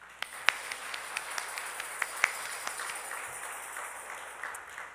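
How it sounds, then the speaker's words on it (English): Sparse, uneven handclaps from a small scattered church congregation applauding a choir, a dozen or so sharp claps spread over several seconds, with no voices. "please give a round of applause for our wonderful choir"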